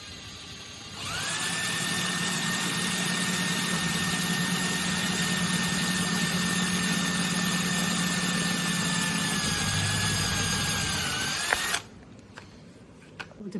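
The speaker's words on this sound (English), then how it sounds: "Go slowly with the drill." A power drill whirs at a steady high pitch for about ten seconds, drilling a model horse sulky part, winding down before stopping abruptly, followed by faint clicks.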